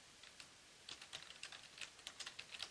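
Quick keystrokes on a computer keyboard entering a search query, a soft flurry of taps gaining pace after a short lull, faint and close over low background hiss.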